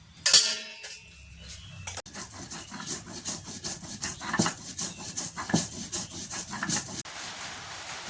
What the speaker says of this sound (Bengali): এই যে কাঁচা লঙ্কা দিয়া, এই যে সর্ষা দিয়া, এই যে আম মাখা করবো